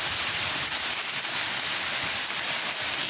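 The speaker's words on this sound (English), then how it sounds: "But now it's muddy, it's raining." Steady rain pours down outdoors onto muddy ground during a typhoon, a dense, continuous hiss with no pauses, close and loud throughout.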